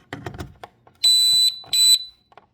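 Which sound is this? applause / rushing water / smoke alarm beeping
smoke alarm beeping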